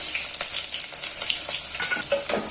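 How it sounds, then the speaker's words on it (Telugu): Steady, loud sizzling of chopped onions frying in hot oil for mutton curry, with occasional stirring scrapes and crackles throughout. "వేసుకొని రెడ్గా వచ్చే వరకు వేయించుకోవాలి"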